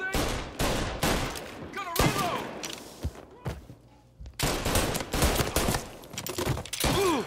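Bursts of gunfire in Mafia Definitive Edition erupt in loud, sharp volleys, clustered shots separated by brief lulls, with a voice shouting over the firefight and a short quieter stretch midway.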